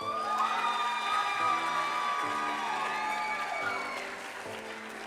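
An audience at a school district's Educational Support Personnel of the Year award ceremony applauds and cheers, a sustained crowd roar with whoops over steady tonal sound that fades slightly near the end.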